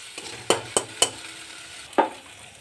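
Ingredients stirred and fried in a little oil in a pan, a few distinct spatula scrapes and knocks over a soft background sizzle, close and unaccompanied by voices.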